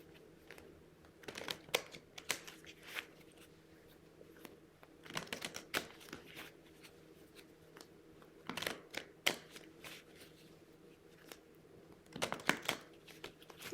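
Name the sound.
shuffling a deck of cards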